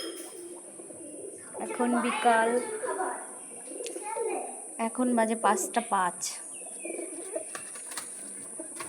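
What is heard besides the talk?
pigeons cooing while feeding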